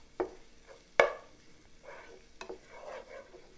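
Tomato paste being stirred into onions in a pan for prawns in coconut sauce, with a few soft scraping strokes and light sizzling, including one sharp utensil knock against the pan, close and moderately quiet.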